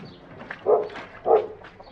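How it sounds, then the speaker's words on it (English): A dog gives two short, clear barks about half a second apart, close by, at an English village house in a 1950s-style murder mystery setting. "Better let the dog out."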